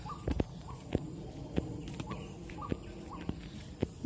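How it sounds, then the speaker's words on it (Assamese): A bird calls repeatedly in a jungle beside a village road, short chirping notes recurring every half second or so against a steady rustling outdoor background, fairly near and moderately loud. "চৰাইটোৰ মাত শুনক।"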